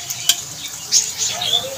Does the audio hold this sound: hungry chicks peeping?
no